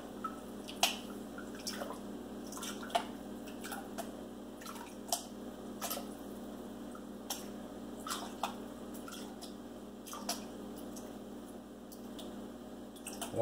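Water swirling gravel and black sand in a gold pan indoors, soft drips and small splashes scattered irregularly over a quiet, low background hum.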